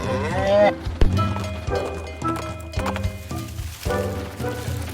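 A cartoon cow moos, its voice rising and falling in drawn-out, tonal calls over an animated children's music backing, loud and close throughout.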